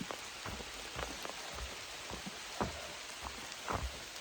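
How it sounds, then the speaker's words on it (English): Light rain falls on a forest stretch of the Appalachian Trail in New Hampshire, with a soft steady patter and scattered individual drops tapping nearby at a low volume. "It's raining again."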